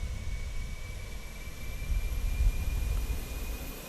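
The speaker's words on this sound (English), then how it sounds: "Auxiliary power unit." The auxiliary power unit at the rear of a Fenix A320 in Microsoft Flight Simulator runs steadily, a low rumbling roar with a thin constant high whine laid over it, swelling slightly midway, with no voices.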